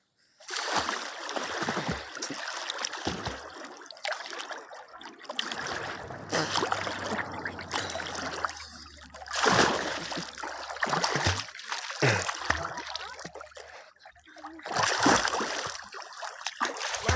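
Flowing water of a stream trickling and splashing close by in uneven surges, with short pauses and a faint low hum underneath.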